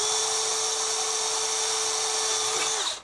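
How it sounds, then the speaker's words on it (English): Small pilot drill bit boring a hole, a steady high-pitched whine held for nearly three seconds before spinning down and stopping. "Little pilot drill."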